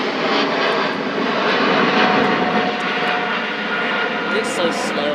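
Airbus A400M turboprop engines running on the runway at the Farnborough airshow, a loud steady droning roar with a faint tonal whine, heard from a distance under spectators' talk.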